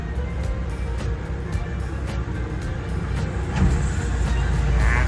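A Caterpillar 313D SR 12-ton excavator with an offset boom runs its diesel engine steadily and close by while pressing its arm down to lift its body, with a hydraulic strain rising slightly toward the end.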